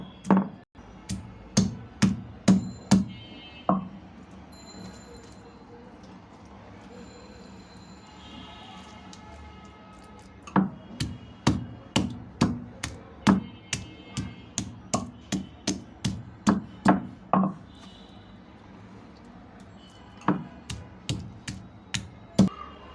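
Meat is pounded thin on a stone pata with a series of sharp, close thuds in rhythmic runs, pausing briefly between bursts, with no talking over the blows.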